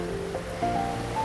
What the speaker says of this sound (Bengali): নদীর আওয়াজ